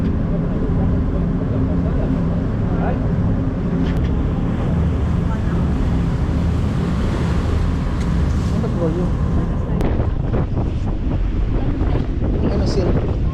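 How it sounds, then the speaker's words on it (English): Wind buffeting a boat on the water at Milford Sound, New Zealand, a constant rushing roar against the microphone with faint splashing and brief muffled voices underneath. "That breeze has just come back in this section here"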